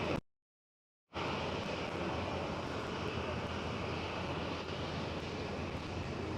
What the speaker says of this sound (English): While KLM 737 is speeding down the runway.